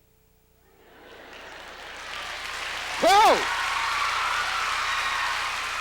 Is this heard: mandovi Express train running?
no